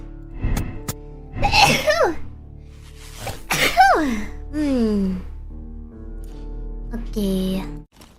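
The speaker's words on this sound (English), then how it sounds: "Hold on, I have to sneeze." A VTuber sneezes with sharp, voiced bursts, several in quick succession with gasping inhales between, close to the microphone over quiet game music.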